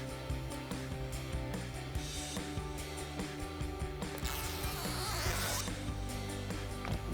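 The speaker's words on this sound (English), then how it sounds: "Then we're going to peel off our center strips as well." Adhesive strip backing being peeled off a RedRock hood deflector for a 2021-2023 Ford Bronco, giving faint, raspy tearing pulls with one longer, louder rip near the end.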